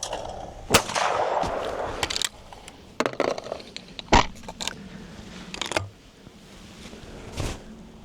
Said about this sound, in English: just making sure that that gun is near the clay when you're shooting